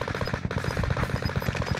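Rapid automatic gunfire from a Warzone Resurgence match, a dense, steady stream of close, loud shots rattling without pause for about two seconds.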